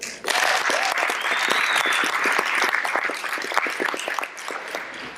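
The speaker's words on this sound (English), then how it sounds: "a big round of applause for everyone who put this together" A conference audience at a math teachers' Ignite session breaks into a full round of applause after a brief quiet start, loud, dense clapping with distinct individual claps close by, tapering slightly toward the end.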